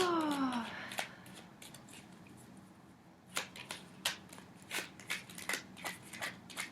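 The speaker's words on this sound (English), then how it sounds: "I will begin shuffling the cards for you." Tarot cards are shuffled close by in a quiet room: a quick riffle at the start, then a series of soft, irregular flicks and slaps as the cards are handled.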